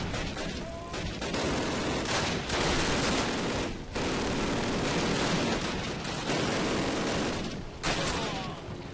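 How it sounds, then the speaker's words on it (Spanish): Dense machine gun fire in a Call of Duty video game, loud sustained bursts of rapid automatic shots with brief gaps between volleys, filling the whole passage without speech. "una ametralladora"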